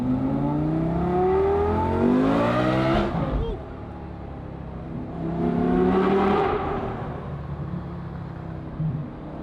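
A Lamborghini Gallardo engine revs hard on its first drive, rising in two long sweeping pulls with a brief drop between them, loud and close inside the car, with people talking over it.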